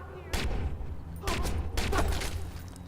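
Suppressed-sounding gunshots in the video game Watch Dogs, fired during a side mission: a few sharp, close bursts spaced about a second apart, with soft mechanical clicks between them.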